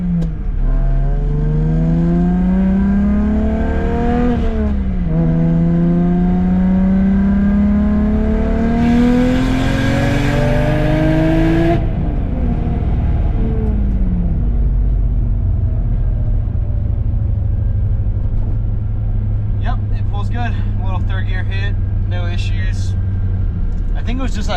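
A BMW E90 with an N54 single-turbo drift setup revs and accelerates hard, its engine note climbing through several gear pulls. A steady loud rumble and road noise follow, and a voice talks briefly toward the end.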